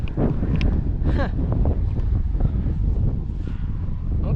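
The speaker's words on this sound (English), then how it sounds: "it's incredibly windy" Strong wind on Orkney buffets the microphone in a constant loud roar with gusty rumbling, heard outdoors near a Viking monument and continuing for the whole stretch, with faint voices partly buried underneath.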